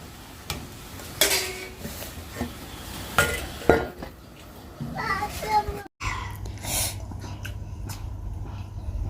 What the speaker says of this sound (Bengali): এবারে শাকটা নেড়ে চেড়ে একটু ঢেকে দেব